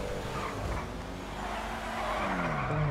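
An Obey 9F sports car in Grand Theft Auto V drives past with a steady engine roar and tire noise, rising in pitch toward the end, loud and close with no talk.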